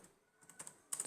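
Quiet computer keyboard typing: a short, soft run of key taps, close by, with a few sharper clicks near the end.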